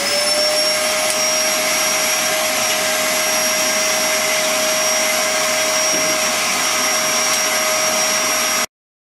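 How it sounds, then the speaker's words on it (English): A bandsaw cuts wood for corner shelves, a steady loud motor whine with a strong constant tone running unbroken for about nine seconds before stopping abruptly. "I'm going to use my bandsaw"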